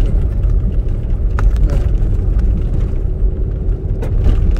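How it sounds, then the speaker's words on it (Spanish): A car bouncing over potholes on a rough road in Mexico, giving a steady low rumble of engine and road noise with scattered thumps from the suspension, close and continuous throughout. "Oye, ve cómo brinca el carro."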